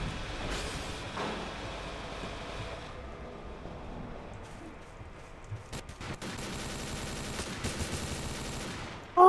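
Gunshots in the game Garry's Mod, a dense burst of rapid fire with a sharp crack near the end, over a busy mechanical background with some voices.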